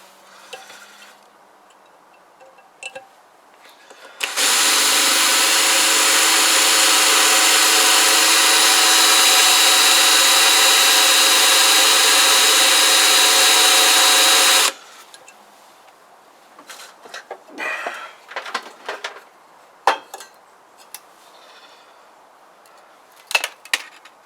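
Power drill boring into a Kawasaki GPZ500S engine head or barrel part with a blunt bit, one loud steady grinding whir of about ten seconds, then quieter clinks and handling noises.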